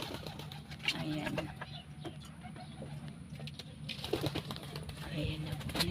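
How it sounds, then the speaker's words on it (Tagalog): Soft pigeon cooing in the background, mixed with ongoing outdoor noise and occasional voices nearby. "Ayan po yung kalapati."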